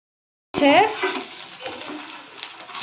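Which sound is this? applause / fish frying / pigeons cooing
fish frying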